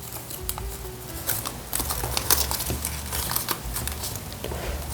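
A sheet of paper is rabbit-folded into an origami snowboarder, with close crinkling, creasing and soft rustling that runs on without pause.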